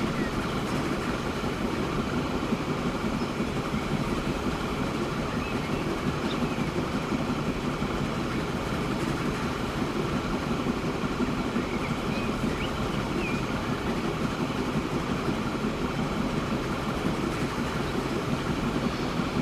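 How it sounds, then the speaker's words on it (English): Train rolling over viaducts and through tunnels in the video game Transport Fever 2, a steady, dense rumble of rail noise with wheel clatter that holds at an even level throughout. "it might be nice to have a ride on the train over these viaducts and tunnels"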